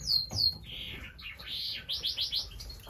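Variegated canary in a breeding room chirping and warbling at close range, starting with high sharp chirps and ending in a quick run of repeated rising trills, with no other sounds.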